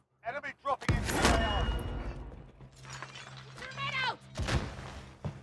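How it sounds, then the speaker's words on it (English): Glass shattering in the video game Call of Duty Black Ops Cold War, heard as a sharp crash with tinkling breakage amid mechanical clatter, with people talking around it. "Was that you, cracking glass?"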